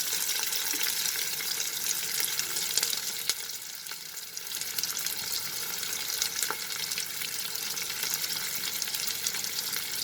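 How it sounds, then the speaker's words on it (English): Sliced onion frying in mustard oil inside a pressure cooker for black chickpea curry, a dense, even hiss of sizzling oil with a few faint stirring taps, steady and close. "2 tablespoons of mustard oil, and now I will add the sliced onion."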